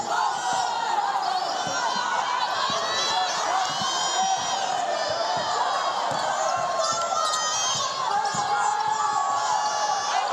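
A basketball arena crowd cheers and yells in a sustained roar during a women's college tournament game, Boise State against Wyoming, with squeaks and thumps from the court beneath the noise.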